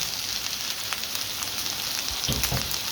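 Prawns hit hot oil in a pan for a Birmingham balti with green chilies, giving a steady close sizzle and crackle that swells briefly near the end as they settle in.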